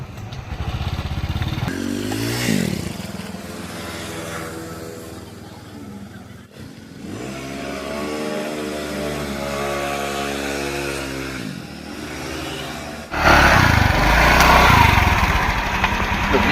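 A motorcycle taxi engine hums and revs while riding, its pitch rising and falling through gear changes, loud and close, with a harsher, louder stretch near the end.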